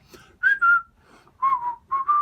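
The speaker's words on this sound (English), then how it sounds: "Just purse your lips and whistle, that's the thing." A person whistles a cheerful tune up close, a phrase from a song, with short clear pitched notes in small groups separated by brief breaths.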